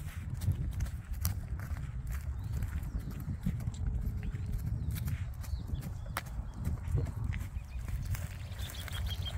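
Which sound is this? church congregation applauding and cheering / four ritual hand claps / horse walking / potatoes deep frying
horse walking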